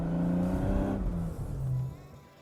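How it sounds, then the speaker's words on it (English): A turbocharged 1980s BMW E30's engine revs up and settles, a throaty exhaust drone rising and falling, heard alone without talk. "it makes a nice exhaust note and makes a couple bangs and pops too"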